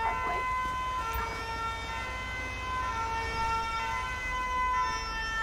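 Fire brigade siren in GTA V with the LSPDFR mod, a loud steady wailing tone with layered harmonics holding throughout, close by and unbroken, with no talk over it.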